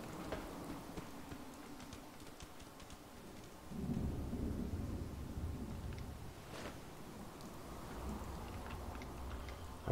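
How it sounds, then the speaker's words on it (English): Steady rain in Fallout 4 patters continuously with a low rumble of thunder rolling underneath, swelling midway and lingering; no voices. "Now it's raining outside."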